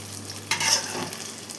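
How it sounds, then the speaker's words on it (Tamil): Soaked taro root (seppankizhangu) pieces roast in hot oil, making a steady close sizzle. A brief louder burst of spatter and stirring comes midway. "இது எல்லாமே எண்ணெயில் நல்லா ரோஸ்ட் ஆகணும்"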